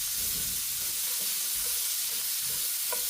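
Half-moon slices of a large white onion sauté in a pan over medium heat, giving a steady, close sizzle with soft crackles throughout and no voices.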